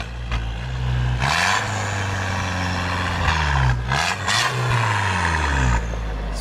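Repeated revving of an Audi A4 2.0T B7 engine with a 3-inch downpipe, rising and falling in several bursts close by, raspy and loud with rattling exhaust tones between revs.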